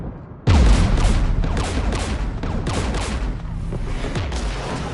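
Heavy gunfire in the Mass Effect 3 video game during a battle against the Geth near anti-aircraft guns: a loud opening blast followed by dense, continuous volleys of shots and impacts for several seconds.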